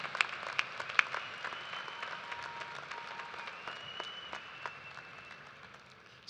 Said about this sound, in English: Let's give a round of applause to everyone who helped make this a celebration to remember.